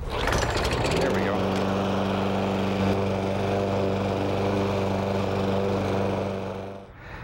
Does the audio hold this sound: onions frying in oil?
no